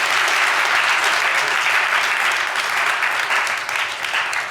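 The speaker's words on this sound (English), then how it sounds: "Let's give Jake a round of applause again." An audience at an evening talk by a foreign reporter gives a steady, full round of applause, loud and unbroken for the whole stretch with no voices on top.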